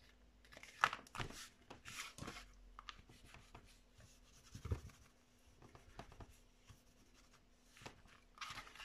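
Double-sided tape being rubbed firmly onto paper while making a crafted paper pocket, producing soft intermittent scratchy rubbing and crinkling strokes, close and quiet with pauses between.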